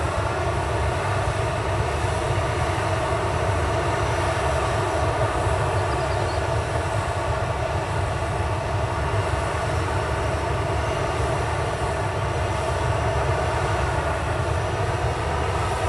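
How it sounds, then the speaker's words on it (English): A Ryanair Boeing 737 MAX arrives at Manchester Airport, its engines giving a steady, moderately loud broadband roar with a low rumble that holds level throughout, no voices present. "Ryanair Max has just arrived"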